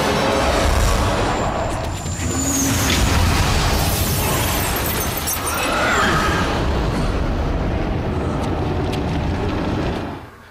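A loud, sustained roar of explosions with shattering debris and a rumbling low end, dense and continuous for several seconds before cutting off.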